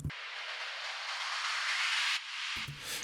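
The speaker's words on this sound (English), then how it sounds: "You've got risers, which sound like this." Riser effect for a progressive house track: a bright filtered white-noise sweep swelling in loudness over about two seconds, then cutting off before a brief low thump, alone.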